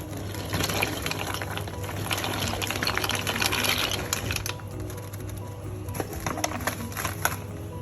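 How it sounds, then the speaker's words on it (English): Dry pasta tipped into a pot of rapidly boiling salted water, a continuous bubbling, hissing boil with scattered clicks and rattles of the pasta going in, close and moderately loud. "Rapidly boiling water, add your pasta, that's already pre-salted."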